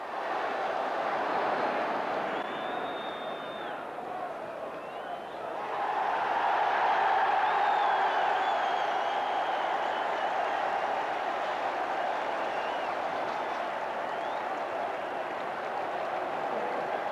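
A large football crowd at a Middlesbrough match roars and cheers in a steady, distant wash of noise that swells louder partway through, with whistles cutting through the din.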